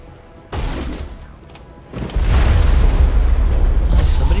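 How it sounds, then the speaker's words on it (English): Rocket launcher explosions in Mass Effect, set during a battle: a heavy boom lands, then a second, louder blast swells into a sustained rumbling roar, with a voice faintly present. "Oh, somebody's got a rocket launcher."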